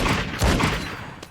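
Rapid gunfire from a Valorant match, a quick burst of several shots at the start followed by a trailing echo, loud and close, with no voices.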